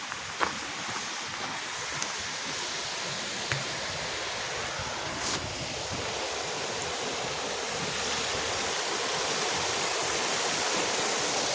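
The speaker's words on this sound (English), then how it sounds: "The waterfall's very quiet today" Steady, soft rush of a quiet waterfall on a river, an even broadband wash of falling water with a few faint knocks and no talking.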